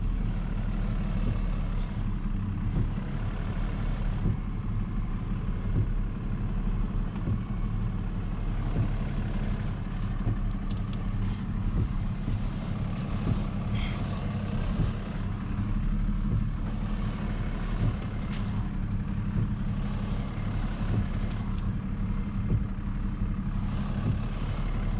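An HGV class 2 truck in England sits idling with a steady, deep engine rumble, moderately loud and continuous, with scattered faint clicks and knocks and no talk.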